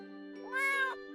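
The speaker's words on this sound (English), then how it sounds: "Hey, cat." A single drawn-out meow from a cat in the video game Escape from Ever After, clear and close, rising then falling over about a second against a faint, steady musical drone.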